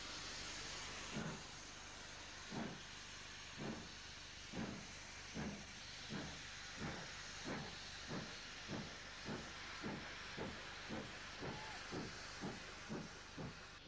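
A standard steam tank engine departs along the Cambrian coast line, its exhaust beating in a steady chuff of about twenty hissing puffs that quicken slightly, heard over constant steam hiss with no talk.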